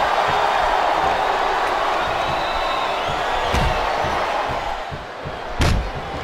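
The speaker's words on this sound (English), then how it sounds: "It sounds like this capacity crowd has something on their minds." A capacity arena crowd roars in the WWE SmackDown vs Raw 2008 wrestling video game, a continuous loud wash of cheering broken by a couple of sharp ring slams.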